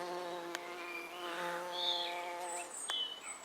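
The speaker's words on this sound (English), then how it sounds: "Oh, there's your leaf cutter." A leafcutter bee buzzes around nest holes in a wildlife garden, giving a faint steady drone that rises and shifts as she moves in and out, with soft outdoor ambience and no talk.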